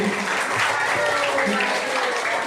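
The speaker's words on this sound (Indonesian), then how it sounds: "tepuk tangan yang memilih ke Sialagan." A room of students clapping together at a school session on local heritage, steady dense applause with some voices mixed in underneath.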